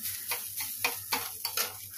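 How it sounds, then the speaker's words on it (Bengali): Snake gourd frying in a pan, a soft steady sizzle broken by repeated stirring scrapes roughly every quarter second, close and moderately loud with a low hum underneath. "এসে চিচিঙ্গিটা ভাজা বসিয়েছি"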